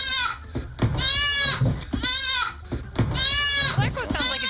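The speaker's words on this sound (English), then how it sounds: "That goat sounds like it's being tortured." A goat bleats four times in loud, wavering, drawn-out cries, one after another, close by.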